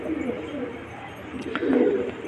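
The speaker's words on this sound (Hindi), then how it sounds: "काफ़ी ऊँचे उड़ चुके थे कबूतर।" Soft cooing and fluttering of Madrasi pigeons outdoors, fairly faint, with a gentle rise in sound toward the end.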